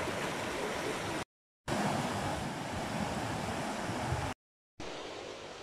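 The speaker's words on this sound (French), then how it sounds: "c'est l'Arc qui est en train de descendre de la montagne, c'est le nom de cette rivière" The Arc, a mountain river near Bonneval-sur-Arc in the Vanoise, rushes down the valley in a loud, continuous broadband roar, interrupted twice by brief total silences, with some wind buffeting and no talk.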